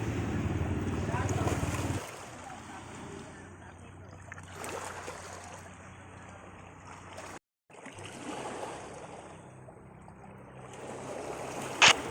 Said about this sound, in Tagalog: Yung wave niya, nakakawala ng stress.